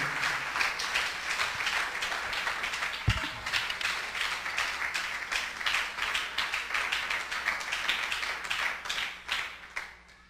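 A church congregation applauds steadily for about ten seconds, a dense wash of many hands clapping at even strength, with one louder thump partway through before the clapping thins out at the end.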